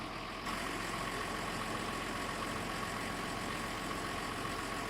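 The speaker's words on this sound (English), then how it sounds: "All of the vehicles in this pack seem to have unique engine sounds to them" A low, steady engine of a Case 5150 tractor in a video game idles with a constant rumbling drone, unchanging throughout, with no voices.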